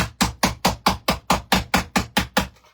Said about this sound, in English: And then I take a manipulator called a hammer